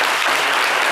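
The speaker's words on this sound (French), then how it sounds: "Et oui, ça s'applaudit." A short, loud burst of dense studio applause for a Cameroonian singer's interview, close and unbroken with no talking.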